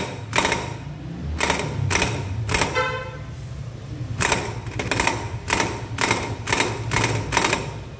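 The front pulley nut on a Yamaha NMAX scooter is tightened with a rhythmic run of sharp, close mechanical bursts, about a dozen in total, broken by one brief pause partway through.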